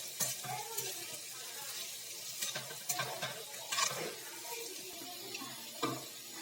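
A pan of slices frying until golden gives a faint, soft sizzle, broken by occasional sharper scrapes of stirring.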